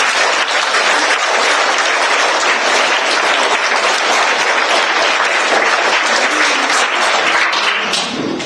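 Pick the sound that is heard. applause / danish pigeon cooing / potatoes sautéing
applause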